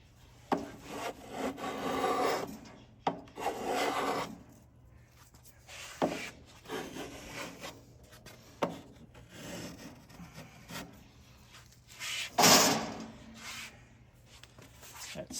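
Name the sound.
block plane shaving wooden guitar sides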